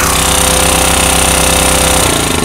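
An Alientec AT1800X 4-stroke gasoline generator runs loud and steady up close, then its engine note drops and winds down as it is switched off near the end.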